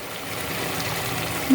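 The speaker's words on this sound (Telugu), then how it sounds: "ఇప్పుడు డైరెక్ట్గా చింతపండు రసము వేస్తున్నాను ఫ్రెండ్" Tamarind juice is poured straight into a pan of spicy crab curry, making a steady, close trickling and gurgling pour that continues without a break for the whole moment.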